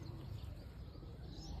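Pigeons coo softly in low, rolling, repeated murmurs, faint and steady throughout the short stretch.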